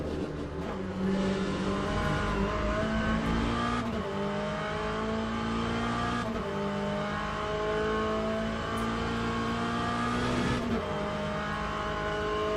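Race car engine in a sim racing game revving steadily through repeated gear shifts, rising pitch dropping at each change every few seconds, loud and continuous with no talk.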